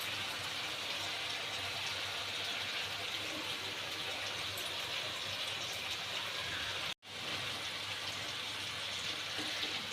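Water pours steadily into a cooking pot of mutton paya, a continuous gushing splash that stops for an instant and then resumes.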